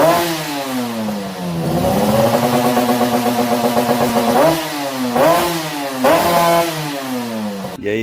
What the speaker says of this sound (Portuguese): Olha o vídeo aí como ficou a minha moto depois de acertada.